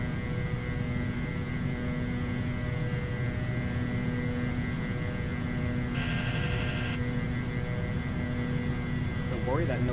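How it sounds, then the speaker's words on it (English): Trim horn of an aircraft in Microsoft Flight Simulator, a brief tonal buzz about a second long sounding over a steady engine drone and hum. "Don't worry, that noise is our trim horn."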